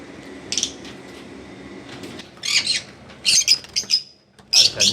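Lovebirds in a cage give sharp, bright chirps and squawks in several bursts, some close together, over a low background hum.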